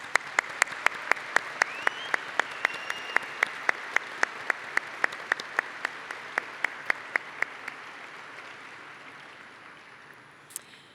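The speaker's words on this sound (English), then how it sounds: "Let's give them a well-deserved round of applause." Audience applause at a university computer science and engineering commencement ceremony: a run of sharp, evenly spaced claps that starts loud and gradually fades over several seconds, ending with one last isolated clap.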